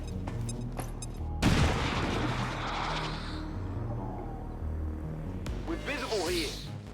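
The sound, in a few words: Overwatch gunfire in video game XCOM 2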